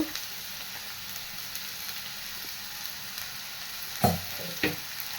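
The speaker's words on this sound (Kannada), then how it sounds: "ಈ ಹೀರೆಕಾಯಿನ ಒಂದು ಎರಡು ನಿಮಿಷ ಫ್ರೈ ಮಾಡಿ" Chopped ridge gourd frying in a pan gives a soft, steady sizzle that runs the whole time, with two sharper utensil knocks near the end; close, fairly quiet, no voices.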